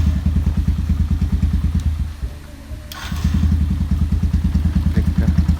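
A Yamaha YTX125 motorcycle engine runs steadily at a rhythmic idle with its starter relay fixed, briefly dipping for a moment before picking back up loud and close.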